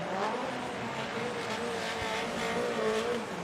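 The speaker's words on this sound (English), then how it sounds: "as Masuyama spins out past the finish line" A drift car spinning out at a Formula Drift competition: loud, sustained engine roar with screeching tires and skidding, continuous and fairly close, with no clear talk.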